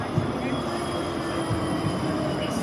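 City tram passing along a street in Bratislava, Slovakia, a steady rumbling roll with a faint metallic whine, heard at moderate distance under a man's speech and general street noise.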